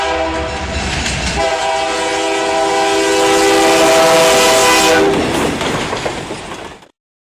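A train rolls past with a long, loud horn blast lasting several seconds, its wheels clattering on the rails beneath, before the sound cuts off abruptly.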